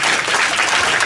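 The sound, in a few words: congregation applauding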